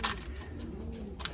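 A pigeon in a rooftop loft gives a short, soft coo at close range, with nothing else going on around it.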